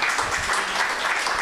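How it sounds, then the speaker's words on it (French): A church congregation claps to welcome a preacher at a Sunday service, a dense, even burst of applause from many hands lasting a moment. "vous pouvez l'accueillir en l'applaudissant"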